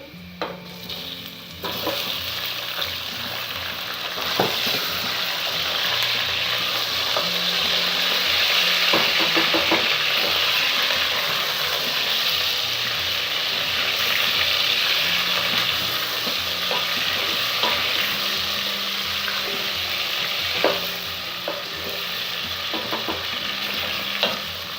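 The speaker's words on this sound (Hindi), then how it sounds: "चिकन को अच्छे तरीके से फ्राई करने के बाद हम इसमें टमाटर और लहसुन अदरक का पेस्ट ऐड करेंगे।" Chicken pieces frying in a pan with oil while being stirred, a continuous crackling sizzle with repeated scraping and stirring strokes throughout, close and fairly loud.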